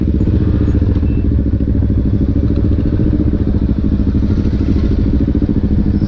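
A modified CFMoto NK400 motorcycle with a loud aftermarket exhaust idles close by, a continuous heavy, throbbing engine burble with a crackly, pulsing texture and no change in pace.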